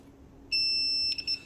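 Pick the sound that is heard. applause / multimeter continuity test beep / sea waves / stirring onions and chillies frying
multimeter continuity test beep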